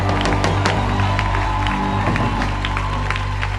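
A church congregation at a worship service cheers and applauds Jesus, a dense, sustained wash of clapping and shouts over a steady low hum, with voices mixed into the crowd noise throughout.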